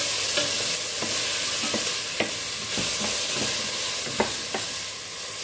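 Food frying in a pan over a stovetop, a steady sizzle with occasional stirring knocks and scrapes, close and fairly loud, no voices.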